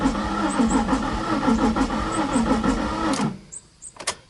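A Nissan 350Z engine cranks over in a steady rhythmic whirring churn for about three seconds, then cuts off, leaving a few faint clicks and a short squeak.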